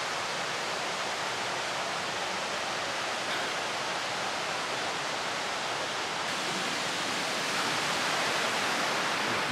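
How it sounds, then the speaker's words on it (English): Waterfalls near Crater Lake heard from a forest trail about a quarter mile away: a steady, dense broadband roar that holds even and unbroken throughout, with no voices over it. "you can really hear the waterfalls from here"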